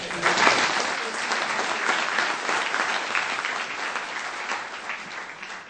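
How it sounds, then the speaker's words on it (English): Auditorium audience applauding a mayor at a drug-policy panel in Minneapolis, full clapping from many people that swells early then gradually thins and softens. "Maybe we should give him a round of applause for me"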